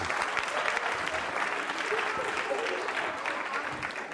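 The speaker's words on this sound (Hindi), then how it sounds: "तालियां जोरों से बजाइए आप सभी के लिए।" An audience applauds loudly and continuously at a Holi-themed university quiz show at MJRP University, a thick, even sheet of clapping that fills the whole few seconds.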